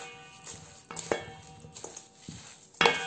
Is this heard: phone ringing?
no